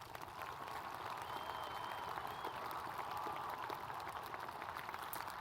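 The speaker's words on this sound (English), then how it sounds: "Let's give this group another round of applause." Sustained applause from a large audience at a high school graduation ceremony for the Red Mountain class of 2014, a steady wash of clapping held at an even level from start to finish, heard from a distance.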